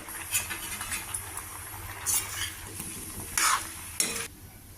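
Brinjal pieces cooking with salt and turmeric in a pan, a soft steady sizzle broken by several scraping stirs of a spoon, close and moderately quiet.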